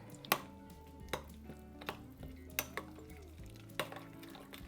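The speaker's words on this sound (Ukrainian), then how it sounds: "Перемішуємо." Eggplant caviar mixed with olive oil, salt and pepper is stirred in a bowl, giving quiet, wet stirring broken by about seven crisp spoon taps at uneven intervals.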